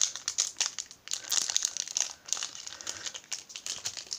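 Crinkly foil wrapper of a Pokémon Shiny Mew booster pack is crumpled and torn open up close, a quick run of sharp crackles, quiet and without speech.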